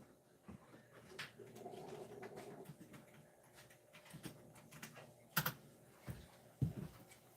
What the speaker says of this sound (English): I was typing on my wife's.